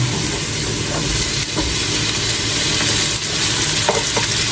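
Tomato dropped into a pan of pork for ginisang labanos, with loud steady sizzling and frying throughout and occasional soft stirring scrapes, no voices.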